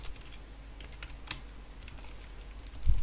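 Computer keyboard typing while entering a C++ numerical integration program, a steady patter of quiet close keystrokes over faint background hum, without speech.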